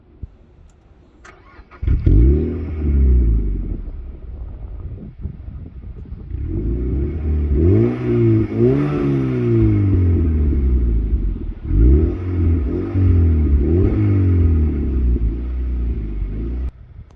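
A Mazda MX-5 NC with a 1.8 litre engine and an Ulter exhaust cranks and fires up after a quiet moment, settles into a loud, steady idle, then gets several short, sharp throttle blips that rise and fall.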